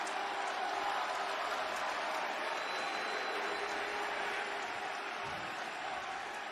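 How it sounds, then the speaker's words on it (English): Live wrestling arena crowd booing and clapping together, a steady dense roar of applause and jeers filling the whole stretch at even loudness. "It's funny I hear boos, but I also hear clapping."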